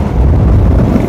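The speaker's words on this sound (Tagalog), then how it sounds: "Malakas yung hangin talaga." Strong gusting wind buffets the microphone at a roadside open road bike race, a loud, steady low rumble filling the whole moment with no voices.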